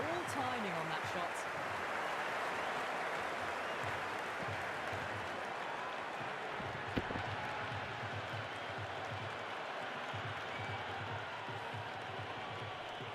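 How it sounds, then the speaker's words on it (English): A stadium crowd in the Cricket 26 video game cheers and applauds in a steady, dense roar throughout, with commentary speech running over it. "It's evident and ever so audible that the crowd is at near bursting point at today's play."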